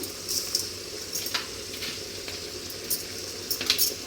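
Tomatoes with salt sauté in a pan, giving a soft, steady sizzle close by, with a few louder bursts of spatter and stirring and no talking.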